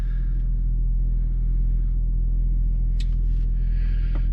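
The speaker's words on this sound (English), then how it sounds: "when you punch it, you definitely hear the turbo, and you definitely hear the stock airbox" A 2021 Audi S4 with turbo and stock airbox under hard acceleration gives a loud, steady low engine rumble heard from inside, with brief whooshing turbo sounds near the end.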